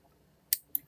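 Small tool snips excess fine jewelry wire while finishing a tiny chain end connector, giving two or three sharp, quiet clicks in quick succession against near silence.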